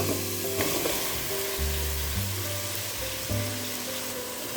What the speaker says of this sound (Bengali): পেঁয়াজ এবং রসুন বাটাটা তেলের মধ্যে একটু ভাজতে হবে। হালকা 30 সেকেন্ডের মতো ভাজা হয়ে গেলে আমি কচুগুলো এর ভিতরে দিয়ে দিব।